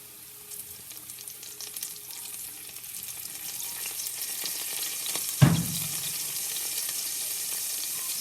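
Fried onions sizzle in a hot pan as a little soy sauce is added, a steady hiss that swells louder after a single dull knock partway through.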